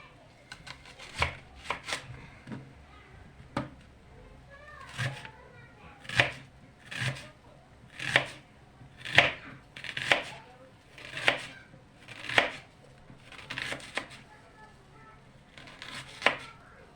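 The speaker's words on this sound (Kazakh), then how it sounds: "Пиязымызды турап дайындап қоямыз." Knife chopping onions on a cutting board while preparing a Kazakh home dish: about fifteen sharp, close, steady chops with no talking.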